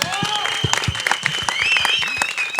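A crowd at the Cirkus trailer launch breaks into loud, steady applause for the director who gathered the 20-member cast on one stage, with whistles and shouting voices rising over the clapping throughout.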